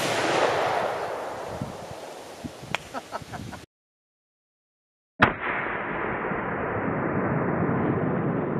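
A Remington 760 rifle in .30-06 fires at a watermelon outdoors: one sharp, loud report with a short echoing tail after a stretch of windy ambient noise, then a sudden cut to steady hiss.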